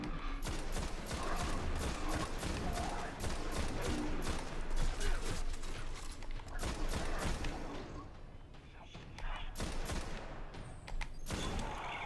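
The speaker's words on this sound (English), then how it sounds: "I love explosive rounds. That, by the way, is why this gun shoots like that." Explosive-round gunfire from a gun in Destiny crackles in rapid, dense volleys of sharp bursts, pausing briefly before more shots, loud and close.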